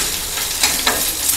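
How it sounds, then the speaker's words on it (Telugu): Dried red chillies fry in hot oil with golden-brown tempering spices, a steady loud sizzle throughout with a couple of brief crackling bursts. "ఈ పోపు దినుసులు గోల్డెన్ బ్రౌన్ కలర్ వచ్చిన తర్వాత 7 నుంచి 8 ఎండుమిర్చి యాడ్ చేసుకొని బాగా ఫ్రై చేసుకోవాలి."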